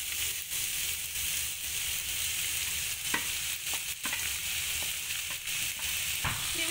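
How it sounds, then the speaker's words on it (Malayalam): Sliced onions with shallots, green chillies and curry leaves fry in a pan for Kerala-style mutton curry. A continuous loud sizzle carries scattered clicks and scrapes from stirring, close up, with no talking. "ഇനി നമുക്ക് ഈ സവാള കൂടി ചേർത്ത്"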